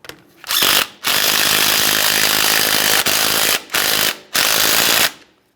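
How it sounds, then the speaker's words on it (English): A ratchet or power tool runs loudly and close up in several long bursts with brief pauses, tightening the 15mm axle nut on a 2015–2020 Ford F-150 during front CV axle replacement. "It's time for our 15mm axle nut. Start it on, snug it up."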